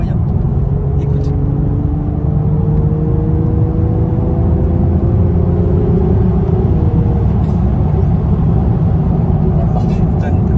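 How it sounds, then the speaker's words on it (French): A diesel car engine pulls hard under acceleration during dynamic driving, a loud low rumbling drone heard from inside the cabin with a rising tone that levels off, while people talk over it. "Et le bruit, c'est un diesel, hein. Le bruit, il est incroyable."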